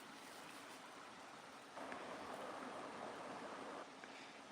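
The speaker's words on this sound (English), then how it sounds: "the sound of the creek is covering my voice" A creek in Alaska, where red salmon are running, flows with a steady broadband rush of water throughout, swelling louder in the middle stretch and easing back toward the end, with no talk over it.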